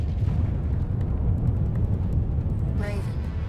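Artillery shells land and burst in a mech combat video game, giving a steady, dense rumble of explosions with a crackling burst near the end.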